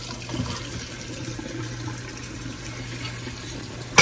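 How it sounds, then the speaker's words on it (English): Hot water pours and splashes steadily into a sink with a strainer of noodles, a continuous broad hiss with a low hum beneath and a small knock at the end. "And pour them right here in this hot water."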